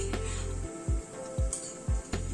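Crushed garlic and green chili drop into onions frying in hot oil, giving a steady close sizzle cut by several soft low thumps as the pan is stirred.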